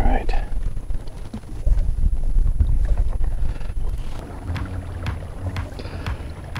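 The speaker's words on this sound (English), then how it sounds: "Even with all this wind and these gray skies" Steady wind gusting across the microphone while kayak fishing in shallow water in Northeast Florida, a low rumbling buffet with water sloshing near the boat and someone talking intermittently over it.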